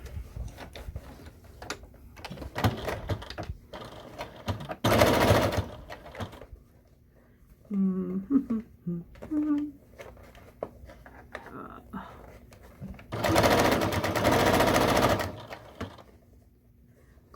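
Sewing machine top stitching a fanny pack (belt bag) about an eighth of an inch from the edge, with two loud bursts of rapid mechanical stitching separated by quieter handling clicks and a person talking.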